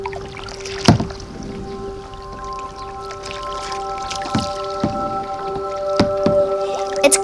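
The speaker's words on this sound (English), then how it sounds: "We are kayaking at a fishing village in Halong Bay." Kayak paddle strokes dip and splash into calm water at a slow, irregular pace at a fishing village in Halong Bay, Vietnam, with a steady tonal hum in the background.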